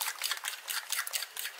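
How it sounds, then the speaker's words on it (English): A fork beats sugar and egg together in a bowl for a Chinese traditional steamed cake batter, making quick, close, rhythmic scraping and whisking strokes with no talking. "Fork to beat the sugar and egg."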